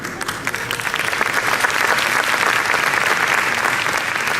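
A round of applause at a 2018 awards ceremony, starting a little softer and swelling within the first second or two into loud, dense, sustained clapping from a large audience.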